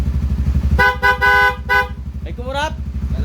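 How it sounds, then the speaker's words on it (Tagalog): Loud horn honks from a Honda Supra GTR 150 motorcycle during a wiring and power-up check, several short blasts over an idling engine, followed by a voice talking nearby. "Tapos busina, loud horn."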